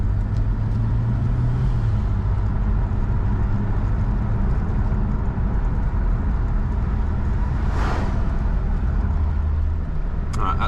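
A BMW with an N54 engine and a swapped-in dual-clutch transmission drives along at light throttle, with a steady, loud engine and road drone from inside the cabin and no talking.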